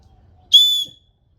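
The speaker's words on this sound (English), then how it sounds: "Very loud whistle." One loud, shrill whistle blast, high-pitched and close, lasting about a third of a second before cutting off into silence.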